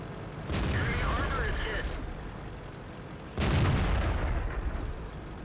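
A tank cannon in World of Tanks fires twice, about three seconds apart. Each shot is a loud, booming blast that rolls off into a long rumbling tail.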